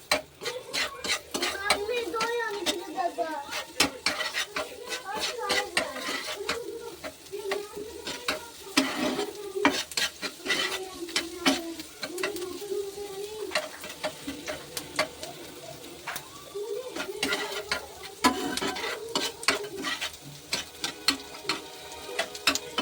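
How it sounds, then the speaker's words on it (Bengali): Chopped garlic, ginger and green chilli fry in oil, with a soft sizzle under frequent clinks and scrapes of a spatula against the pan, stirred in irregular bursts. "এটা একটু 10 সেকেন্ড ভালো করে ভেজে নেব।"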